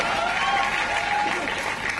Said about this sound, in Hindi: जिन 2 लोगों ने तालियां बजाई